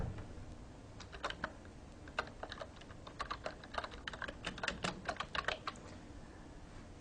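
Someone types Java code on a computer keyboard, a close, fairly quiet run of rapid key clicks in uneven bursts, alone with no talking.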